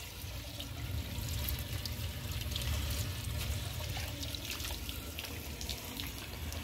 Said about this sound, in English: the tank seems to be filling fairly quickly